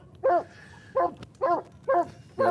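A coonhound bays at a hunting competition, giving five drawn-out, bawling hound bays in a steady rhythm, fairly close and clear against light background noise, with no talking.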